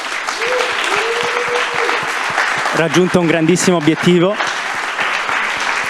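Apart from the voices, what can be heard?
audience applause for Cava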